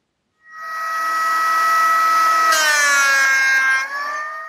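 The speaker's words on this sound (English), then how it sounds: "I'm planing it down to around 3/8 of an inch thick" A scrap piece of 3/4 inch maple is fed through a power planer to thin it toward 3/8 inch, giving a loud, steady whine that rises in pitch midway and continues without pause, with no talking.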